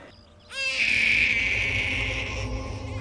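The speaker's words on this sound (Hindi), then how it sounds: "बच्चे की रोने की आवाज बस में शायद वहां से आ रही है।" A baby cries on a bus, a sustained high wail starting abruptly after a brief quieter moment and holding steady, fairly close over low vehicle rumble.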